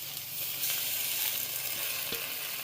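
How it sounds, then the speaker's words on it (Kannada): Brahmi leaves, freshly washed, sizzle as they are fried in a pan for a chutney, a steady close, hissing crackle with a few faint stirring scrapes and no talking. "ಇದನ್ನು ಹಾಕ್ಕೊಂಡು ಫ್ರೈ ಮಾಡ್ಕೊಳ್ಳೋಣ."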